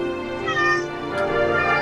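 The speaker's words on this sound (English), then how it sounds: "Yes, Kitty. We are exploring the city. No, don't get on top of the computer" A cat meows repeatedly in a long, drawn-out, wavering cry, close by and fairly loud, alone over faint room tone indoors.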